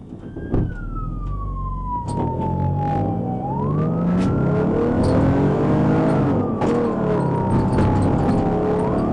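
A suspect's car speeds on the wrong side of the road during a Michigan police chase, with a wailing police siren rising and falling over a steady engine and road roar. Brief clicks and knocks are heard, and no one speaks.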